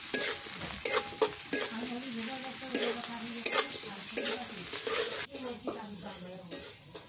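Green chili and onion fry in mustard oil, likely in a pot over a clay stove outdoors in a village, hissing steadily close by while a utensil stirs and scrapes in repeated strokes.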